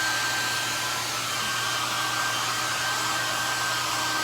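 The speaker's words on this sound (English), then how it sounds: "I'm going to get some hair dryer going." A hair dryer blows steadily and close to dry paint on paper, a constant loud whooshing hiss with a faint high whine and a low motor hum, unbroken throughout with no talking.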